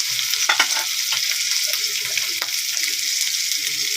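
Pork pangsahog sizzling in hot oil in a pan while cooking pakbet, a loud steady frying hiss with occasional crackles and stirring scrapes, close and continuous.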